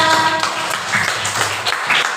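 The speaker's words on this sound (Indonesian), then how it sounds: "Kita tepuk tangan kita semua." A class of students clapping together in a classroom, a dense, continuous patter of many hands with faint voices mixed in.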